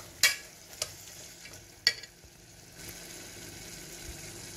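Broad beans frying in a pan with onion and ginger-garlic paste hiss under a soft, steady sizzle, punctuated by a few sharp spoon clinks and scrapes as they are stirred, close and fairly quiet.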